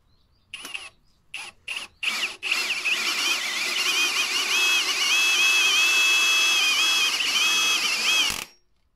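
A cordless drill set to screwdriver mode at maximum power drives screws, starting with a few short bursts and then a long, steady, high-pitched motor whine that runs close and loud for several seconds before stopping abruptly.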